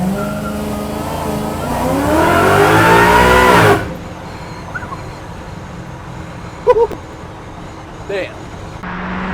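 A Roush-supercharged 1969 Ford F100 truck with a Coyote engine revs loud and close, its pitch climbing hard before cutting off, then idling low with a few small knocks.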